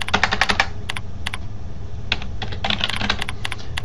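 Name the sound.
computer keyboard typing a username and password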